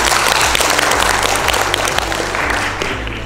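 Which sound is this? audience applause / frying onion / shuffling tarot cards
audience applause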